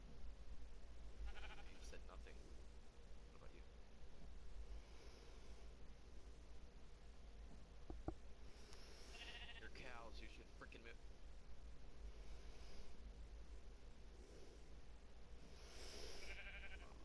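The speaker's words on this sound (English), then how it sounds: "Shut up, you stupid fucking sheep." Sheep bleating in Minecraft on PlayStation 4, a few faint wavering bleats spread across the clip over a steady background hiss.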